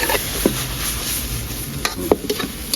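Spicy frog curry stir-fried dry in a pan: a steady sizzle with a couple of sharp spatula scrapes and knocks against the pan, close and alone.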